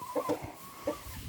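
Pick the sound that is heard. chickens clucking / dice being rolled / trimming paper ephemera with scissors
chickens clucking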